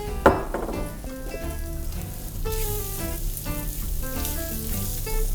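Bacon, garlic and breadcrumbs sizzle steadily in a pan, a dense crackling fry that runs alone throughout, with a brief louder stir or clatter near the start.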